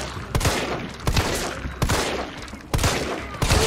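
Repeated gunshots fired in Resident Evil 3 out on the city streets, four loud, sharp bursts spaced roughly evenly with a hissing roar of noise between them, close and dominant with no talk.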